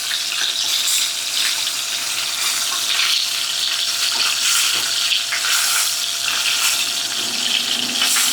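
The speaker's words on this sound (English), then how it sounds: "I hope you can hear me with all this sizzling." Food sizzles and crackles steadily in a hot frying pan, a dense continuous hiss with small pops, close and loud, no voices.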